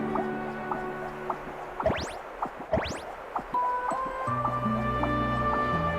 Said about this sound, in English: Oh, it sounds like a water droplet is on the second floor!